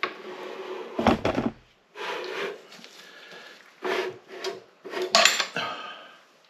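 A big screwdriver forces a tight screw during a 1936 Austin 7 rebuild, giving several separate bursts of creaking, scraping effort with short pauses between, close and moderately loud, with no speech.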